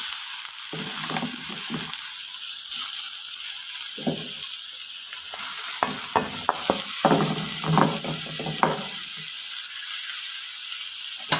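Cabbage thoran ingredients hit hot oil with popped mustard seeds and fry in a steady, close sizzle, broken by clustered crackles and spoon-scraping stirs in the middle stretch.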